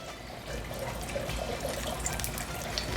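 Coconut oil, about one and a half tablespoons, poured into a pan for a Kerala beetroot and lentil stir fry, giving a soft continuous trickle close up, with no talking.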